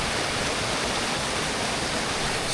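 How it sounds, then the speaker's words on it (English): Water rushes steadily in a stream that runs down from the Loch Ness falls in the Scottish Highlands. The broad, even hiss is continuous and close, with no voices. "I only have to follow this stream."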